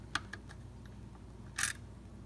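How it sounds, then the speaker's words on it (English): A Romex cable connector is screwed into the small knockout hole on an InSinkErator garbage disposal: a few light, quiet metallic clicks followed by one short, brighter rasping scrape, close up over a low steady hum, with no talking. "all we are going to do is position it on that little hole and screw it in"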